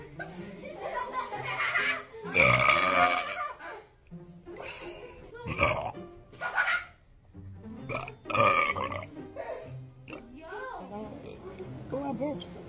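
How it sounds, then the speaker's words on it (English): Loud, repeated burps from a woman in a classroom, several deep croaking belches in bursts with short gaps, mixed with nearby talking and some laughter. "Oh, I burped."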